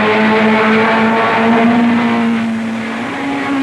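Early-1960s race cars at speed on a circuit: a loud, sustained engine drone with a steady high pitch that dips slightly then climbs again, close and continuous, with no talk.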